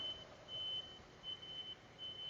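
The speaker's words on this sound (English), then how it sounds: "It sounded like a brake alarm, kind of." Repeated electronic beeping inside a truck cab, resembling a brake or low-air alarm, sounding steady and fairly quiet over a low engine rumble with no talk.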